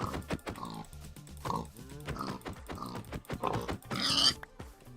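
A pig in the Minecraft video game oinks in a run of short grunting snorts, fairly close and moderately loud, ending with a brief higher squeal.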